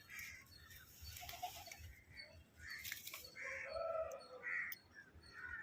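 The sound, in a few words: pigeons flying and circling overhead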